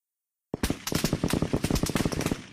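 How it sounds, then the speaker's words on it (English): Fireworks crackle in a rapid, dense burst of sharp pops starting abruptly after a short silence, heard from a distance at a modest level, resembling gunfire, with no talking. "No, it is fireworks."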